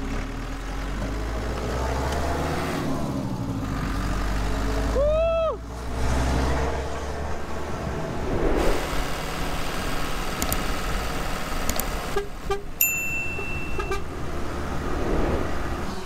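A car idles and drives along a road while hitchhiking in Ecuador between Ambato and Quilotoa. The engine rumbles steadily throughout, and a horn toots clearly midway, followed by lighter traffic noise.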